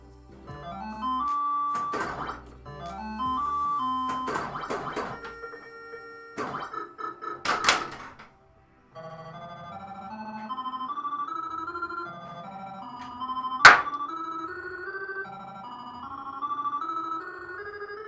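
A Paragon pinball machine in play, with electronic chimes, bell tones and melodic beeps in shifting sequences, rattling bursts of action and one sharp clack partway through, loud and close with no talk.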